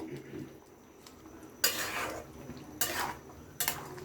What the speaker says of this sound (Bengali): এবার জলটা দেওয়ার পরে আমি একটু নাড়িয়ে নিচ্ছি এইভাবে